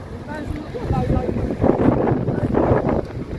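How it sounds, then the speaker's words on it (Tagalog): Strong wind buffets the microphone in loud, rumbling gusts for a few seconds, with faint voices mixed in underneath. "malakas ang hangin"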